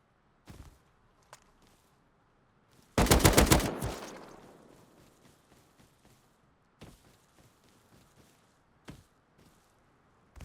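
A burst of AK rifle fire rings out in a shooter game, a dense volley of shots lasting about a second that fades into a decaying echo, with scattered single cracks and footsteps before and after.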